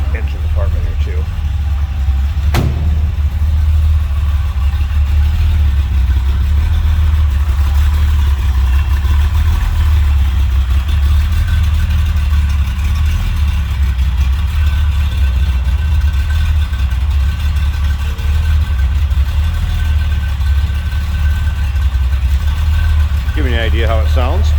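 A 1980 Ferrari 308 GTBi with a 2.9 liter quad-cam V8 idles steadily at close range from the rear, a constant low rumble lasting throughout, with brief faint voices and a small click near the start.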